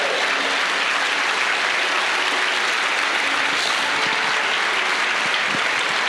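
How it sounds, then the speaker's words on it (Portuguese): A church congregation applauds with sustained, dense clapping that stays loud and even throughout, with no voices standing out. "Dá um salve de palmas ao Senhor, por favor."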